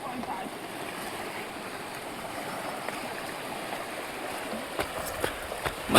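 Sea water washes and swishes steadily along the shore at night under a broad wash of wind, with a few sharper splashes near the end.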